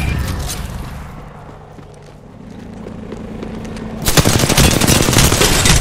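Gunfire in Apex Legends, with a loud burst of rapid shots at the start, a quieter stretch, then sustained heavy automatic fire over the last couple of seconds.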